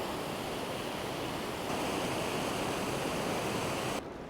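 Rhine Falls, a waterfall about 150 metres wide and over 20 metres high, roaring with a dense, steady rush of powerful falling water heard close up, with no talking.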